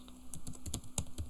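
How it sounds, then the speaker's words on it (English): Computer keyboard keys clack in a quick, irregular run of close, crisp taps while someone types out an SQL query, with no speech. "I'm going to start typing a bunch of things here."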